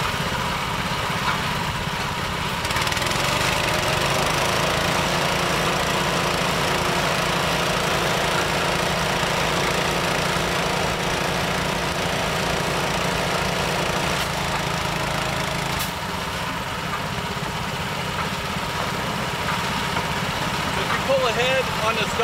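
A boat's starboard engine runs at a steady idle during an oil-containment operation on the water, a continuous low rumble that holds constant while people talk over it.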